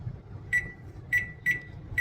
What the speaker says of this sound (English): I'm going to set me a timer for like 20 minutes